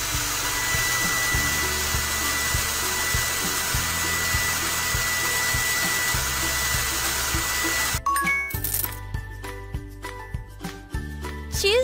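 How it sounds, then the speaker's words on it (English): A cartoon hair dryer whirs steadily in a children's salon-style video game, a loud continuous blowing drone for about eight seconds before it cuts out into tinkling game chimes and jingles. "Use the hair dryer."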